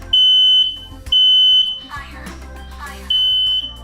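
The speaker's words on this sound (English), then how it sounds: "When I opened the oven, a bit of smoke came out and activated the fire alarm." A household smoke alarm set off by smoke from an oven gives three loud, piercing beeps with short pauses between them. Voices and household noise fill the gaps.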